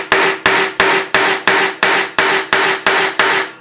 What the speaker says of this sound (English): Put it up here in the anvil. Tap, tap, tap.